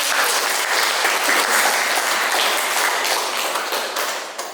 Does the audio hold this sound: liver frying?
no